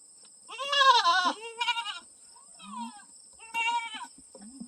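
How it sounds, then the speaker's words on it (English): A goat in a herd bleats several times close by, wavering nasal cries in separate bursts with short gaps between them. "It's tough being a goat in a new herd."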